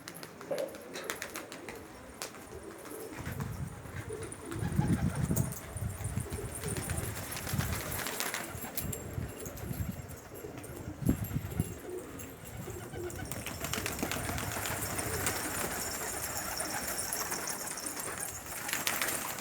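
Homing pigeons landing, with soft cooing and bursts of wing flaps, faint and close, scattered over quiet background noise.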